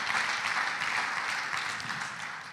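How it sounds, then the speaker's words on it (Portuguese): A church congregation claps steadily in a sustained, even round of applause that fades slightly at the end, with no voices over it. "Dê uma salva de palmas a Jesus"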